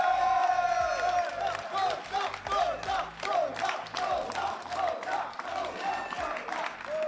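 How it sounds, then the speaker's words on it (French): A crowd at a Street Fighter 6 tournament final on La Réunion gives the winner a loud ovation, with sustained clapping, cheering and whoops filling the room while some voices and musical tones sound underneath. "Ovation pour Nozar"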